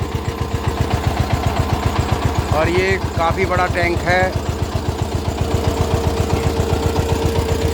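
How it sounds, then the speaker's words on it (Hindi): A tractor engine idling with a fast, even diesel chug, its steady pulsing thump close and loud throughout while someone talks over it briefly. "सिलों पे चल रहा है ट्रैक्टर।"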